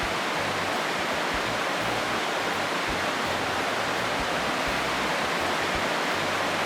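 Virginia Falls, a 70-foot waterfall in Glacier National Park, roars as a steady, dense rush of falling water, loud and unbroken throughout.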